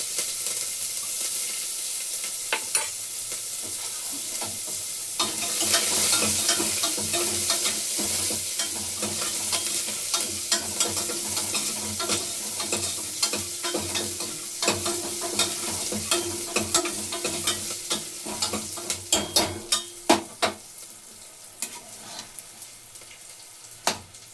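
Onions and curry leaves sizzle loudly in hot oil, a continuous crackling fry with occasional stirring clicks, close up and without voices.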